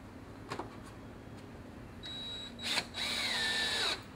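A power drill whirs in two short bursts, the second longer with a rising then falling whine as it pre-drills into a 2x4, after a few light taps.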